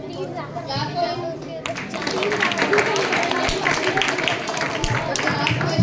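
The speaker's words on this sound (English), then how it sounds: "Clap for him." Children clap in a burst for a student's correct answer at a school Saturday quiz. The clapping starts partway through and carries on steadily, mixed with kids' chatter.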